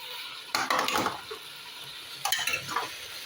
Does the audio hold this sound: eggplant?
yes